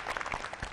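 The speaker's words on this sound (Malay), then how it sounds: "tepukan sekali lagi" A group of Girl Guides (Pandu Puteri) claps together at an indoor ceremony, a brief, close burst of rapid overlapping hand claps under a second long.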